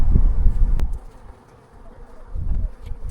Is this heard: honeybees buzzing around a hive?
yes